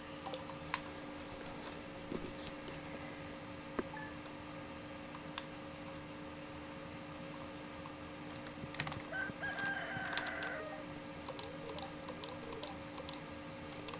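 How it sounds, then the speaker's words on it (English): Chickens in the video game Stardew Valley, faint clucks and a crow-like call mixed among soft clicking and steady game ambience, with no one talking. "I forgot to put my chickens to bed."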